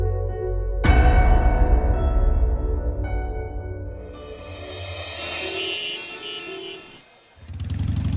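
A motorcycle ridden fast, with a loud revving engine that builds and holds at close range, then fades briefly before surging back near the end.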